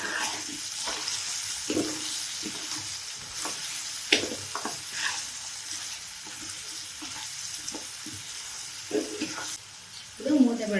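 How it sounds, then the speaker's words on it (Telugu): Soft, low sizzle of aloo egg kurma frying on a low flame with turmeric and salt, with occasional stirring clacks and scrapes of a spoon in the pan, fairly quiet and close. "ఇప్పుడు లో ఫ్లేమ్లో పెట్టి సన్నగా ఫ్రై అయ్యేంత వరకు పెడతాను"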